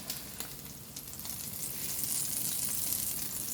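Ham sizzles steadily in olive oil in a pan for breakfast sandwiches, a continuous close crackling hiss that grows slightly louder midway, with occasional stirring clicks and no talk.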